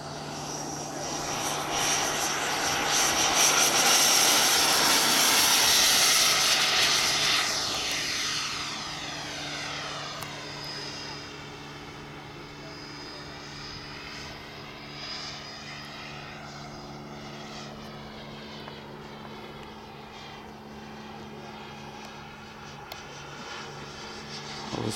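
An electric ducted fan model De Havilland Vampire jet flies past, a loud rushing whine that swells, peaks and sweeps away, then lingers as a fainter steady drone overhead.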